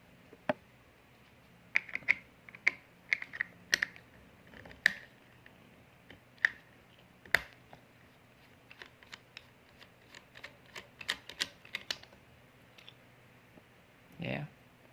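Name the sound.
unscrewing Phillips screws on Faema espresso machine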